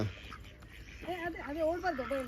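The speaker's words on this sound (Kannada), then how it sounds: "ಇಲ್ಲೆಲ್ಲ ಡಕ್ಕಿದೆ" Ducks quack at a resort in Sakleshpur, a run of nasal calls rising in the second half and fairly close, with a voice talking over them.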